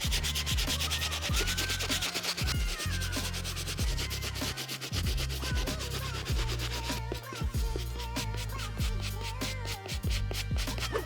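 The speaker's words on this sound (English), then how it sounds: "I'm also gonna scrub down the synthetic areas without letting the bristles touch the pink mesh" A bristle brush scrubs the synthetic areas of a shoe in quick, rhythmic back-and-forth strokes, a close, continuous scratchy rubbing with no talking.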